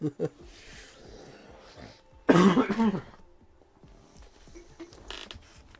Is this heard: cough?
yes